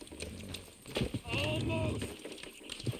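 Hooves clip-clop from horses pulling in Red Dead Redemption 2, a moderately loud, uneven beat mixed with game sounds and characters talking over it.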